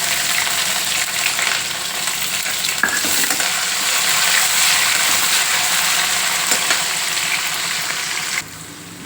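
Dry red chillies and onion fry in a pan with a loud, dense, continuous sizzle and some stirring scrapes, then the sizzle drops off abruptly just before the end.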